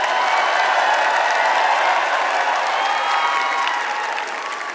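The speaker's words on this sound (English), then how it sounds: "can we please have a round of applause" A large crowd at the Miss Universe 2018 preliminary competition applauds and cheers in a broad, steady wash of sound that fades slightly toward the end.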